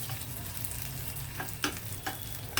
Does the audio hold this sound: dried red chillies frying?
yes